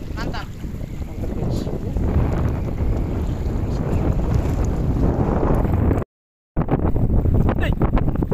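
Strong wind buffets a small fishing boat at sea in the late afternoon, a loud continuous roar of gusts and hull noise that runs steadily throughout with one brief dropout near the end.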